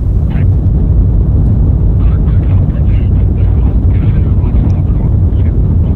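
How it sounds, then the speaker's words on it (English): Space Shuttle main engines and solid rocket boosters igniting at liftoff in the Orbiter 2010 simulator, a loud continuous low roar and rumble, with a voice talking over it. "SRB ignition and liftoff."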